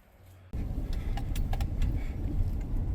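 Work truck with stiff suspension rolling over a rough, bad road, a loud steady rumble of engine and road noise with occasional rattles that starts abruptly after a brief quiet moment.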